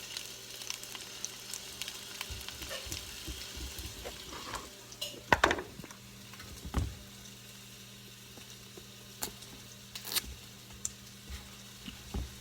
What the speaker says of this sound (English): we're going to do quite a bit of peppers and onions we're going to saute here